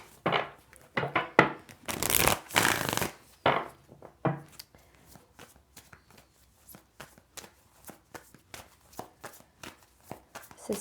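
Oracle cards shuffled by hand ahead of a Pisces love tarot reading: a dense riffling burst early on, then a run of quick, light papery taps and flicks, fairly close and alone.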